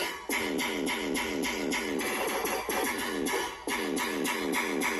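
Main bass of a tearout electronic music drop, a loud, gritty, wobbling bass pattern repeating in quick rhythmic bursts, with a couple of brief dropouts between phrases, no voices.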